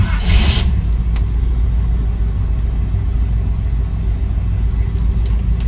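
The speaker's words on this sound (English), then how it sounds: "this thing cranks over really fast" The small block engine of a 1972 Chevy C10 with an upgraded starter cranks over fast in a steady, rapid, loud rumbling churn that continues unbroken for several seconds.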